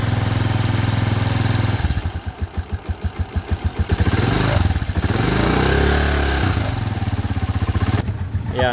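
Repaired motorcycle engine after a crankshaft bearing, timing gear, clutch damper and clutch lining replacement, idling loud and close with a pulsing throb, then revving up and easing back down before settling.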